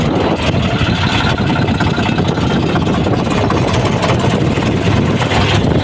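A tractor engine runs loud and close, a steady unbroken rumble that holds at an even level throughout.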